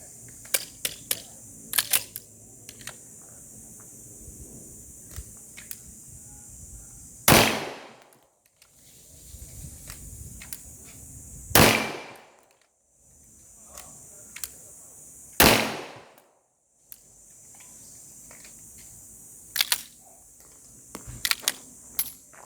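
Three sharp, loud pistol reports spaced several seconds apart ring out at steel plates about 15 meters away during a shooting competition with standard division guns, with small clicks and handling noises between them.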